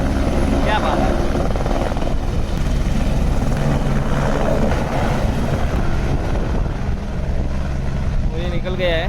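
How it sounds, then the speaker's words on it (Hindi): A loud, steady helicopter engine and rotor roar as it takes off at Kedarnath fills the whole stretch, with a few voices faintly under the noise. "ये उठते ही अगला हेलीकॉप्टर आ जाएगा"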